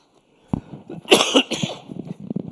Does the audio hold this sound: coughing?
yes